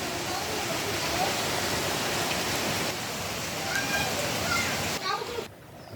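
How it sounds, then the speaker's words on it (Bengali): Heavy monsoon rain falls during rainy-season cooking on a stove, a dense, steady roar of downpour that holds evenly for about five seconds, then drops away abruptly near the end. "আর এই সব অনেক বৃষ্টি হইতেছে।"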